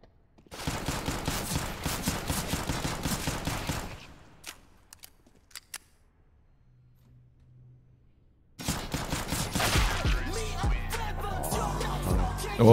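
Gunfire in the video game CS:GO: a long burst of rapid shots, a quieter gap with a few isolated shots, then another sustained volley, loud and without talk.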